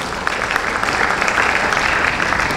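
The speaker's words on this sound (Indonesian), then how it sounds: "Tepuk tangan dulu buat beliau." An audience at a school gathering breaks into brisk, steady clapping, a dense wash of many hands that holds evenly throughout this short burst.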